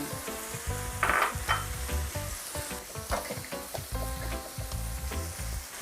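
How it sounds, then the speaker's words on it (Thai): Close sizzling and frying in a pan, with rhythmic scraping and clinking as mussels with roasted chili paste, holy basil and spring onions are stirred over and over. "เดี๋ยวเราผัดให้ต้นหอมพอสลบก็เสร็จใช้ได้แล้วค่ะ"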